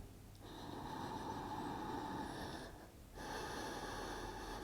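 Slow, steady breath during a yoga hip and leg mobility session, a long continuous inhale-exhale with a short pause then another breath, close and fairly clear with no talking.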